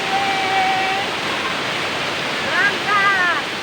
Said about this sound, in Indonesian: Inilah air terjun Kaluopa.